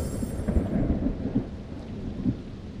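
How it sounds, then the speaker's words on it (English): Thunderstorm in a children's cartoon: low, rolling thunder rumbles over steady rain, loud and continuous, with no speech. "Yes, a storm."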